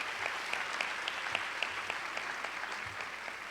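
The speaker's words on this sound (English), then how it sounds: "Let's give him a round of applause and thank him." An audience of pre-K teachers claps steadily for a deputy mayor, a dense even patter of many hands at moderate distance with no voices over it.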